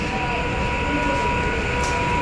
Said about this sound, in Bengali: আমরা শিয়ালদা স্টেশন চলে এসেছি